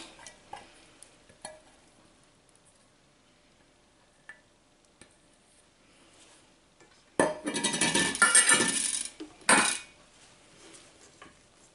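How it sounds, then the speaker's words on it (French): Faisselle gently folded into whipped cream in a bowl with a utensil, heard as a few faint taps and then a burst of soft, wet scraping and stirring lasting a couple of seconds before a brief final scrape. "on vient mélanger délicatement les deux préparations"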